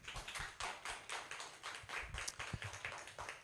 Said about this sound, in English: let's give a big round of applause to our new inductees